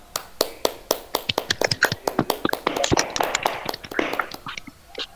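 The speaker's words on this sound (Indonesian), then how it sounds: "Dan terakhir tepuk tangan untuk kita semua" Scattered, uneven claps from a small group close by at the end of a group session. The sharp slaps run for about five seconds and thin out toward the end.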